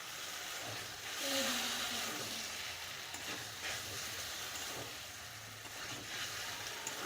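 Taro stolons cooked with kasundi mustard sizzle softly in a pan while being stirred, a continuous low frying hiss with a few brief scraping sounds and no talking.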